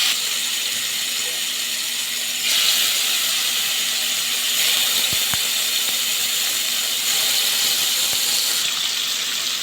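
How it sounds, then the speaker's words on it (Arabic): Tandoori chicken pieces set into a hot pan greased with oil or ghee, giving a continuous broad hiss with a few faint knocks, up close and with no voices. "حاطة مادة دهنية زيت على سمن، والصينية تكون سخنة، وانزل عليها بالفراخ بالشكل ده"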